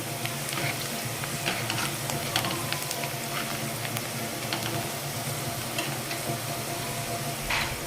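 Onions sizzle and crackle steadily in a pan for a mutton curry, a continuous close frying hiss with occasional stirring clinks throughout, no one speaking.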